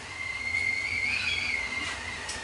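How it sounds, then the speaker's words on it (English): Water coming to a boil for coffee gives off a steady, thin kettle-like whistle that rises slightly and wavers over a soft hiss, fairly close and continuous throughout. "It's the sound of water boiling."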